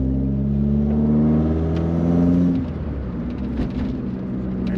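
A VW CITI Golf with a 16-valve engine pulls hard in third gear, its steady loud drone holding for a couple of seconds before easing off into a lower, steady running hum.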